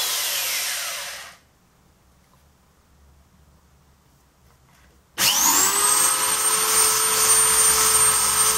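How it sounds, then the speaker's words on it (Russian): A power drill whirs loudly, stops for a few seconds of near silence, then starts again with a high spinning motor whine. "Сейчас подключу дрель."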